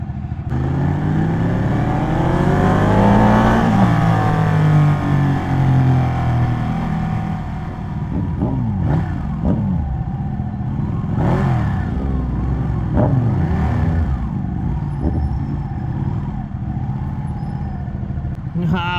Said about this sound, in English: So this is the first time I'm riding a Ducati 899